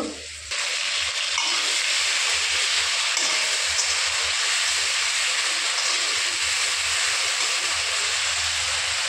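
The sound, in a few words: frying ground ginger, cumin and chili spice paste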